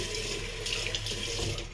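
Tap water runs steadily into a sink as shaving brush tips are dipped in it during a wet shave with a Gillette Slim Adjustable razor; a continuous close splashing flow with no talking.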